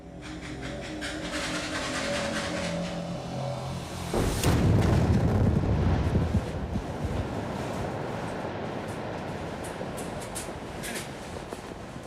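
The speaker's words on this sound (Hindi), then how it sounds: "धमाके ने 100 टन चट्टान में दरार बना दी है" A sudden heavy boom from an underground blast in a South African gold mine bursts out partway through, followed by a long, loud rumbling roar and crackling debris that slowly fades.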